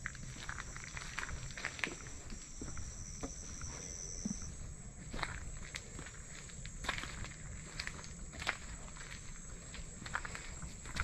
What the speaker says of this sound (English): you may hear a second set of footsteps